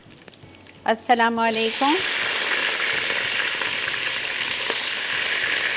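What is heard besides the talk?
vegetables with bottle gourd sizzling in a frying pan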